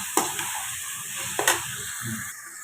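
Tomatoes frying with ginger garlic paste in a pan for a chicken gravy, a steady close sizzle with a few sharp scrapes and clinks of the spoon while the mixture is stirred.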